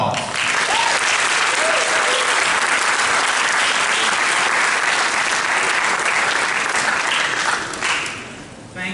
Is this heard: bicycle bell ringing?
no